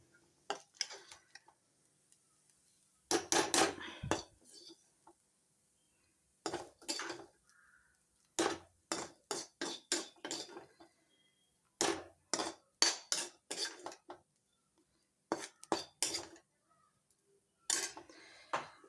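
A metal utensil scoops and stirs rice-based food in a pot, giving bursts of clinking and scraping strokes in irregular clusters separated by quiet pauses, close and clear.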